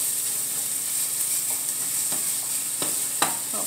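Sausage and diced potatoes fry and brown in a pan, giving a continuous bright sizzle with occasional sharp clicks of a utensil scraping and turning the food, heard alone and up close.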